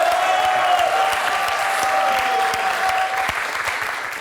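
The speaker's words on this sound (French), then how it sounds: "Moi, je vous applaudis, en tout cas." Studio audience applause on the French game show Questions pour un Champion, a full, loud burst of clapping from a crowd that stays strong and then eases slightly toward the end.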